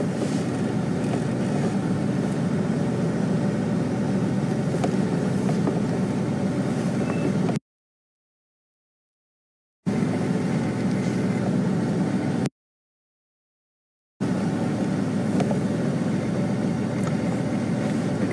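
A 1.5-ton safari vehicle's engine rumbles steadily as it eases slowly into position, a continuous low drone interrupted twice by short gaps of silence.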